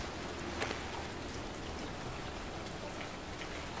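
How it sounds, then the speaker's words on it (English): Rain in the survival video game Survival: Fountain of Youth falls as a steady, dense hiss of drops hitting a surface, faint and continuous. "Oh, it's raining."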